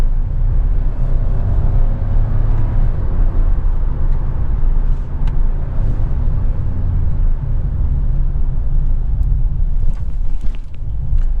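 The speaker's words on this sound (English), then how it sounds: "As soon as it crosses the 3000 rpm, you feel that boost from the turbo" A Hyundai i20 N-line turbo engine accelerating past 3000 rpm, heard from inside the car as a steady, loud low rumble mixed with road and wind noise.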